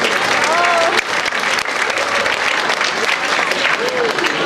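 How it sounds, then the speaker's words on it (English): Steady, loud crowd applause for dancers from the Khmer Keom Federation after a traditional dance performance, continuous clapping filling the whole stretch with faint voices calling out underneath. "Another big round of applause for our dancers from the Khmer Keom Federation and their beautiful dance and beautiful culture."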